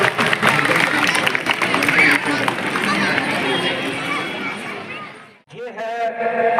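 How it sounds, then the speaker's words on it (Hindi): An audience at a student awards ceremony claps in welcome, a dense and loud burst of many hands that holds steady, then fades and breaks off before a voice begins speaking over the hall. "जोरदार तालियों के साथ में स्वागत"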